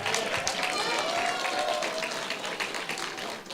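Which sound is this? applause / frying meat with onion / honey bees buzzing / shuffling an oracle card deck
applause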